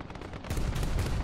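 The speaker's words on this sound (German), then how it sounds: "hat mich die Anti-Air von denen getroffen" Rapid anti-aircraft gunfire from a War Thunder battle, a dense burst of overlapping shots that grows louder halfway through and stays heavy to the end, with no talk.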